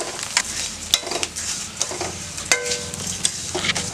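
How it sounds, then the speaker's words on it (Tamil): Flattened rice (aval) roasting in ghee in a pan makes a close, busy sizzle. Repeated scraping strokes and metallic clinks from a spatula stirring the flakes run through it. "இந்த நெய்லேயே இதையும் போட்டு நல்லா வறுத்துடலாம்"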